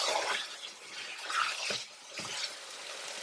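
Chicken with spices is stirred in a pan over a high flame, a loud sizzle and frying hiss with scraping strokes of the spoon, steady and close.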